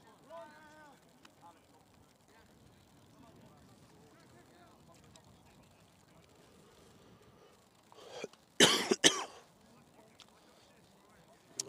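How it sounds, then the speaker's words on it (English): A sports commentator at an American football game in the UK coughs in a loud, close burst of a few harsh coughs after a stretch of quiet background murmur. "I wish I had a silencer so you didn't have to hear me cough"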